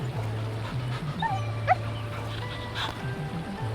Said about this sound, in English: Will you please pet the dog?